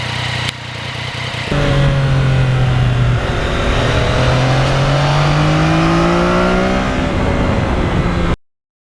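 A 2020 Yamaha MT-09 sport motorcycle engine revving up through the gears while riding on a country road, pitch climbing and dropping with each shift, loud and close with steady wind noise.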